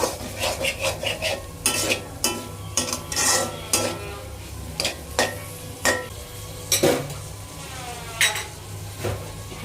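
Garlic sizzling in hot oil for mixed seafood fried rice, a spatula scraping and clanking against the pan in quick repeated strokes over a steady frying hiss, close and clear.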